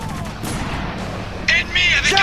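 Gunfire from a firefight in the Spec Ops: The Line video game, loud close bursts and booms mixed with shouted voices.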